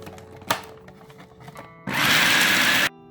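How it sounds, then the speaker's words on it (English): A kitchen blender coarse-grinds soaked channa dal for parippu vada, starting after a few light knocks with a loud, steady whirring roar that runs for about a second before cutting off abruptly. "Now I'm going to add the channa dal into it and we are going to do the same coarse grind on it."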